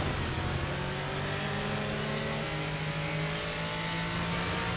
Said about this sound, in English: I won't even let off the throttle on mine. I just keep her hammering down.